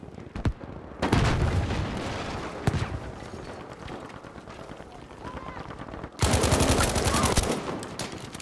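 Video-game gunfire in Battlefield V: bursts of rapid automatic shots and single cracks come in loud clusters with brief lulls between them, near and harsh.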